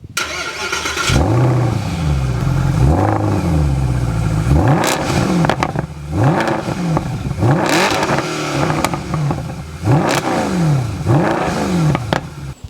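A sports car engine revs repeatedly, rising and falling in loud throaty bursts with a rough exhaust note, close by.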